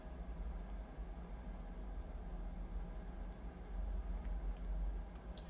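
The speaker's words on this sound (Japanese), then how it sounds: "首都高速が近いので車の音でうるさい" Constant car traffic from the nearby Shuto Expressway in Tokyo, a steady low rumbling roar heard from indoors, with no talk over it.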